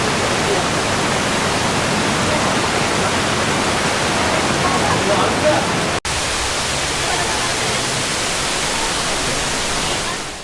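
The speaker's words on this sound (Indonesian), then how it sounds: "tersimpan keindahan dua aliran air terjun yang jatuh dengan gagahnya" Roaring broadband rush of the Sejoli waterfall in heavy rain, a dense, loud, continuous wash with a brief break midway.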